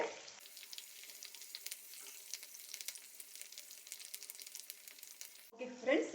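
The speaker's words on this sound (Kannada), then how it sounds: "ಸ್ವಲ್ಪ ಕರಿಬೇವು ಹಾಕೊಳ್ತೇನೆ ಅದು ಫ್ರೈ ಆದಾಗ ಚೆನ್ನಾಗಿರ್ತದೆ" Curry leaves sizzle and crackle in hot oil in a pan while dry palak gobi is cooked, a steady close frying hiss with scattered pops before a brief clatter near the end.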